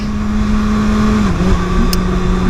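A 2020 Kawasaki ZX6R motorcycle engine runs loud and close with a steady tonal drone, its pitch dipping briefly midway before settling again.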